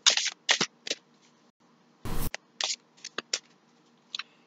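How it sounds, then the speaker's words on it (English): Tarot cards are shuffled by hand in a quiet room, giving a string of brief, crisp riffling and slapping bursts with short pauses between them. "I'm going to shuffle for a minute."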